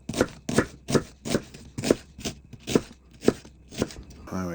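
A knife chopping vegetables into chunky half-moon pieces on a board, about ten evenly spaced crisp thuds at a steady rhythm, close and clear, with no voices.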